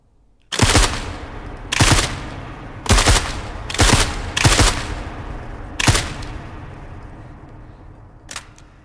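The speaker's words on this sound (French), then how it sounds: "Rafale de 3." Suppressed long rifle firing on a sniper range: about six sharp, muffled cracks spaced roughly a second apart, each with a short decaying tail, then a faint final shot after a pause.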